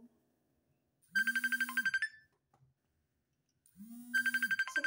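A mobile phone ringtone plays an incoming-call melody in two bursts about a second long separated by a quiet gap, close and clear with no talking over it.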